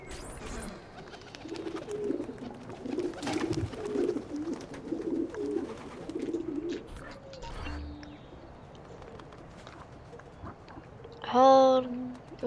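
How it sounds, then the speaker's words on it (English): Pigeons coo in repeated soft bursts at a pigeon coop in Assassin's Creed II, with hoof-like clip-clop and game ambience around them, a louder cooing call near the end, and a voice talking over parts of it. "Oh, it's the pigeon coop."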